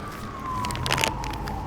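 Emergency vehicle sirens wail through a town, one steady tone sliding gently downward at moderate distance, with scattered crackles and clicks over a low traffic rumble.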